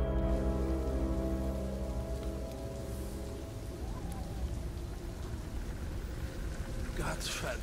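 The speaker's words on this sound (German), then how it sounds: "Gott verdammter Regen. Sie hört nie auf, nicht wahr?" Steady heavy rain pours throughout a scene in the video game Beyond Two Souls, a dense continuous hiss with a low rumbling bed, while someone speaks German over it.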